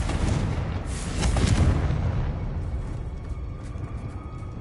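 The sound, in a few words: Confringo blasting curse explosion, Hogwarts Legacy video game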